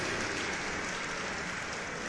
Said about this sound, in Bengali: সাথে সাথেই করতালিতে মুখরিত হয়ে উঠল গোটা অডিটোরিয়াম।